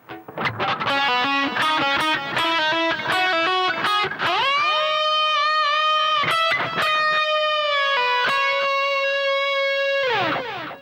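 A distorted electric guitar plays an E Lydian rock solo phrase: a quick run of picked notes and bends, then long sustained high notes held for several seconds before a final descending slide, loud and up close with no voice.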